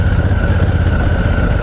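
A 2018 Honda Africa Twin Adventure Sports DCT motorcycle on a small dirt track, its engine thrumming steadily and loud close by, with a low rumbling pulse.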